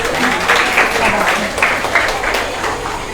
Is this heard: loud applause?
yes